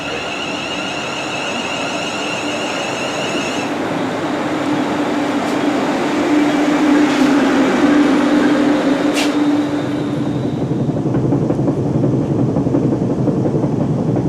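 A passenger train runs steadily on approach to Crewe, a loud continuous rumble with a sustained hum and high whine that fades out early on, plus a couple of brief clanks along the way.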